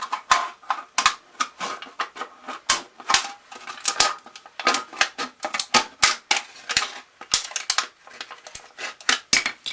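An aluminium pop can is cut with a run of sharp, crisp metallic snips and crunches coming in quick irregular bursts, close up with no talking.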